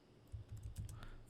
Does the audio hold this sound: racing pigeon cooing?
no